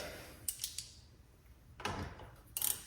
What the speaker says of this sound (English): now we just bolt it back with this guy